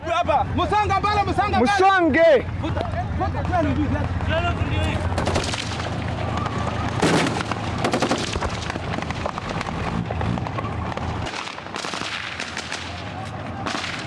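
Relentless gun, tank and artillery fire in a battle zone during an offensive against an Al-Shabaab ambush in the jungle, with dense overlapping shots and booms sounding loud and continuous, mixed with shouting voices throughout.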